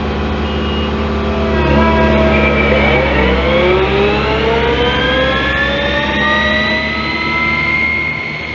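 The engine of a Prinoth M450s machine runs loud and close, a heavy diesel drone that builds and rises steadily in pitch as it revs up and holds at high speed.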